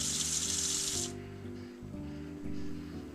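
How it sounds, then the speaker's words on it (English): Fresh water poured into a pot of corned venison to cover the meat, a bright rushing splash for about a second that then stops, followed by low room hum and faint clinks. "Put fresh water into the pot to cover the meat."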